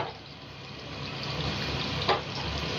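Tap water runs steadily into a cooking pot for rice in a home kitchen, a close, continuous rushing stream with a brief splash near the end.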